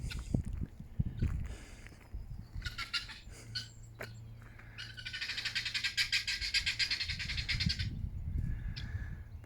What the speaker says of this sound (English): Just chirping away, got plenty to say.